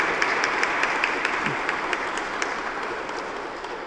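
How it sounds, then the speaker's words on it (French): A church congregation at Mass applauds, a broad wash of many hands clapping with some sharper individual claps standing out, gradually tapering in loudness toward the end. "Je pense que ça vaut peut-être une bonne main d'applaudissements"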